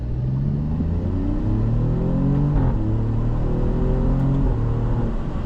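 A 2023 Alfa Romeo Giulia Quadrifoglio accelerates hard from inside the cabin, its engine note climbing through rising revs with a dip at a gear change before pulling up again, loud and steady with road rumble underneath.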